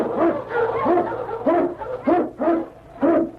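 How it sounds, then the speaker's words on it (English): Eskimo lead sled dog barking in an old Yukon radio drama, a steady series of about seven loud, close barks at a regular rhythm over a low background hum, with no talking. "King, the swiftest, strongest of Eskimo lead dogs, blazes the trail through storm and snow"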